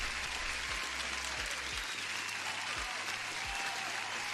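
Applause sound effect: a dense, steady wash of clapping hands at even loudness throughout, with a low rumble underneath.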